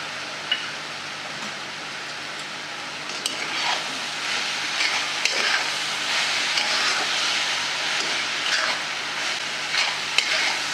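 Modak filling of coconut and jaggery, with roasted poppy seeds and cardamom powder added, being stirred and sautéed in a pan, giving a steady close sizzle with soft scraping strokes and occasional spoon taps throughout.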